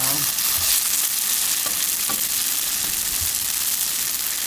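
Tofu pan-fries until golden, giving a constant dense sizzle and crackle with occasional light clicks from stirring, loud and close throughout.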